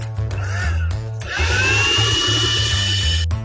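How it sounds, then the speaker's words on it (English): Blender running at a baking competition, a loud whirring motor that revs up and holds steady for a few seconds, with kitchen background noise beneath it. "a stubborn blender gave Christianburg some trouble"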